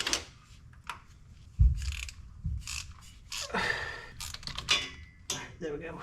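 A socket ratchet clicks on transmission bolts, with scattered metallic clinks and tool clatter, a couple of heavier knocks, and short ratcheting bursts at close range. Quiet voices come through between the mechanical noises.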